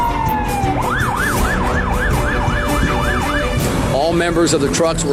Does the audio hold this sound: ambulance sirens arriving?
yes